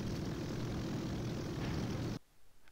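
A propeller aircraft in the game Hellcats Over the Pacific, its steady engine drone close and loud, then cutting off abruptly near the end and leaving faint background noise.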